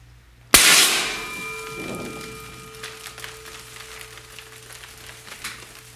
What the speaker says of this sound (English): So let me load her up and we'll push the button and fire it.